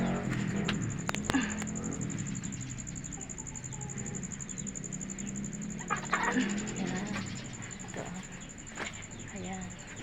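Chickens cluck and squawk in bursts close by, over a muffled background hum with some handling noise.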